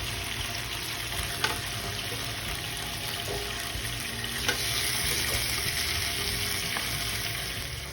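Freshly flipped restaurant-style spicy chicken tikka fries in a pan, giving a continuous dense sizzle with a couple of brief clinks, close up and without talk.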